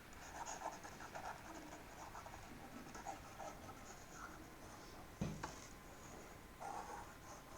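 Marker or chalk writing on a board during a sets lecture, faint scratchy strokes in short bursts spread across the clip, with no talking.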